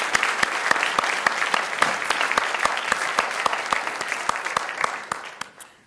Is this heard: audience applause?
yes